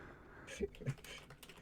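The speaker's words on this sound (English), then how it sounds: "I'm trying to type this, and I started typing" Quick, faint taps on a computer keyboard, a short burst of a few keystrokes close up in a quiet room.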